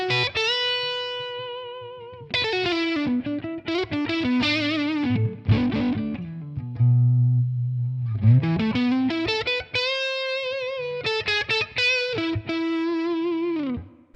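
An electric guitar on the neck pickup, run through a ToneX amp capture with light room reverb, plays sustained overdriven notes and chords with long ringing tails, loud and alone.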